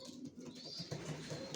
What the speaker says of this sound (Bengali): সব একই লাইনের কবুতর পালি আমি, জনসনের লংয়ের।